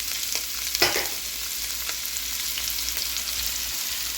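Chopped garlic and a medium white onion sauté in a hot pan for pasta, a steady close crackling sizzle with a brief louder stir scrape early on, no talking.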